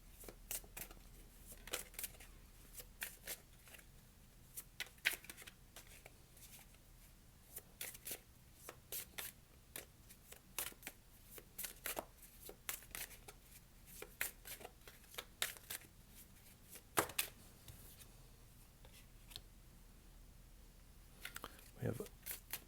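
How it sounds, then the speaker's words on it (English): Tarot cards split and drawn from a deck, giving a run of crisp, close shuffling and flicking clicks at an irregular rhythm, fairly quiet, with a person talking softly in between. "we'll take the bottom split and get another 3 cards"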